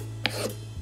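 A file rasping across a fishing lure during repair, one short close scrape lasting under a second, with a faint hum behind it.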